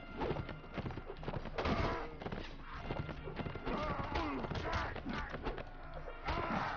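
Horse hooves in the game Mount & Blade thud in a steady galloping clip-clop beneath battle clatter, with someone talking over the ride.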